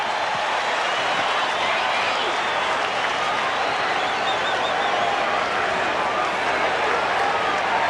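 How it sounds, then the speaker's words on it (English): A packed Dodger Stadium crowd roars and claps during Game 6 of the 1978 World Series, a continuous wall of cheering with a broadcaster's voice faintly underneath. "This crowd is going wild."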